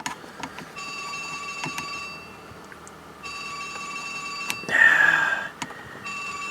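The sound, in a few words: cell phone ringing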